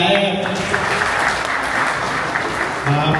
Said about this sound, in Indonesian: Tepuk tangan dong buat Pak Ajaib